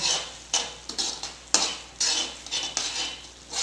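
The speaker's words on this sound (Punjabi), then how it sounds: "ਇਹਨੂੰ ਚੰਗੀ ਤਰ੍ਹਾਂ ਨਾਲ ਮਿਕਸ ਕਰ ਲੈਣਾ" A spoon scrapes and knocks against a pan while cream is stirred into a paneer and capsicum curry, giving repeated close clinks and scraping strokes in an uneven rhythm over a faint background hum.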